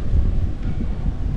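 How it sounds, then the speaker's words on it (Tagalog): Strong wind at a camping spot in Bulacan buffets the microphone, a brief, loud, gusty low rumble with no voices. "Lakas ng hangin."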